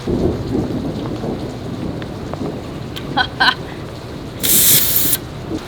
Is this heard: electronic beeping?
no